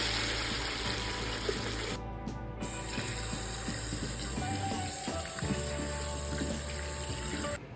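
Tap water runs steadily over stew meat in a kitchen sink for Cameroonian cooking, a continuous close wash of splashing broken by small metallic clinks and rattles, with no talking.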